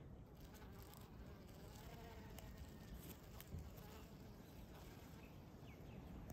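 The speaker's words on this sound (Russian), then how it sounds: "И внутри копошатся пчелы, копошатся трудяжечки." Bees buzzing inside an open pitaya (dragon fruit) flower on a trail in a park on Maui, a faint continuous close-up drone with soft rustling and no talk.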